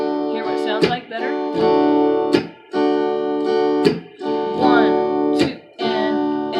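A rhythm guitar plays a repeating strummed pattern with short choppy palm-muted hits between sustained chords, close and clear with no voices.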